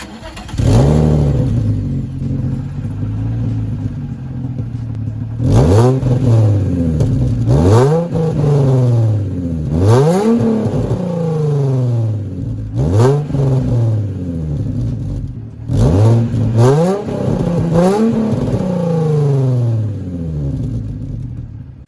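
Nissan 350Z engine firing up and revving hard in a series of repeated throttle blips, each rising and falling in pitch, loud and close with no talking.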